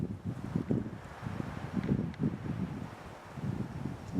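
Wind gusting across the Stowe Pinnacle hiking trail, low rumbling buffets against the microphone rising and falling in uneven waves, close and steady with no talk.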